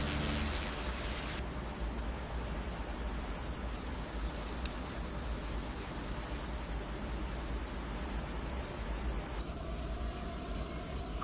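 A continuous high-pitched insect trill drones steadily over a hissing background, shifting slightly in pitch, with no voices present.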